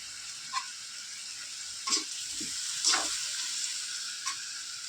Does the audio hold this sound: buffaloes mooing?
no